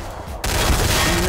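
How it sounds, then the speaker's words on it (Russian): A bomb detonates in Garry's Mod: a sudden loud blast bursts in after a quieter moment, then a dense, rumbling roar of debris and crackle carries on steadily to the end. "Вот она взорвалась, эта бомба."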